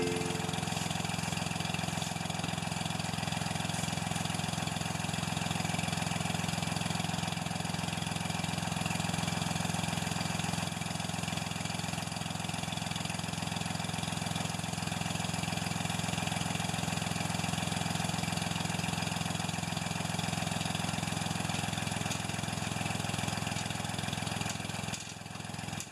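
A Ford 2600 tractor engine idles steadily at close range, a constant low mechanical drone with an even, unbroken rhythm running throughout; the engine has a sticky clutch and is blowing heavy smoke from the breather.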